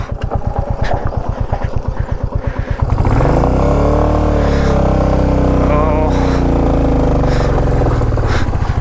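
A heavy Royal Enfield motorcycle engine rumbles on a rough, rocky mountain pass road in West Sikkim, with a steady thumping idle that swells into a loud, continuous drone close by.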